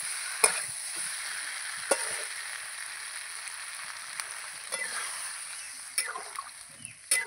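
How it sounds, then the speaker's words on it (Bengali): Spiced pumpkin and potato frying in a pan as water is poured in, giving a steady sizzling hiss with a few sharp clinks and stirring scrapes throughout, close and moderately loud, with no talking. "কুমড়োর সঙ্গে কিন্তু মশলা বেশিক্ষণ কষাতে লাগবে না, নাহলে কুমড়োগুলো সব গলে যাবে। আমি একটু কষিয়ে জল দিয়ে দেবো।"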